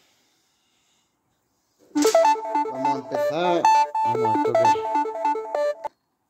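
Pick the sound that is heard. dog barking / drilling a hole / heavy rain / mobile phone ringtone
mobile phone ringtone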